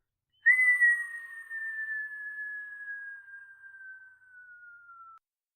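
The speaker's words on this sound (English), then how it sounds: "we hear this whistling sound" A cartoon whistling effect plays alone: one clear, sustained tone that slides slowly downward in pitch for several seconds before cutting off cleanly, with no other sound.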